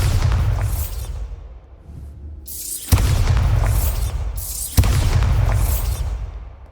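A Bombarda explosion spell from the Hogwarts Legacy video game, heard as two loud, sharp blasts about two seconds apart, each followed by a rolling, rumbling roar over continuous game ambience.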